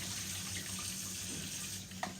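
A faucet pours a steady stream into a sink as chicken is washed under it, an even close rushing with a brief clatter near the end and no speech.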